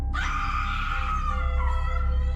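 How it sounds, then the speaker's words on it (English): A woman's scream as a horror sound effect, a single sustained shrill cry rising sharply then wavering and trailing off over about two seconds, loud and alone. "A woman scream."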